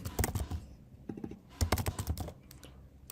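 Quick bursts of typing on a computer keyboard, keys clattering in uneven clusters with short pauses between, close and fairly loud, no voice over it.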